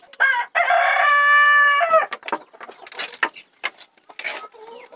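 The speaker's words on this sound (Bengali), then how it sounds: "এটা হচ্ছে ব্রাহ্মা মুরগি না আপা?" A Brahma rooster crows loudly and close by in a long, strained, harmonic call, followed by softer clucks and scattered chicken noises around a small backyard coop.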